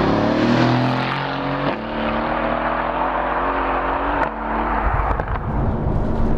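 Mercedes-AMG GT, the entry-level version, driving on the road: a steady, loud engine drone with harmonic tones that shift as it changes gear, plus tyre and road rumble throughout.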